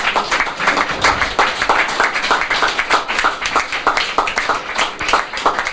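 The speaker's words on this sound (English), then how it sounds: "Let's applaud them" An audience at an award ceremony applauds a winning team, dense steady clapping from many hands that fills the room without a break and carries no voices.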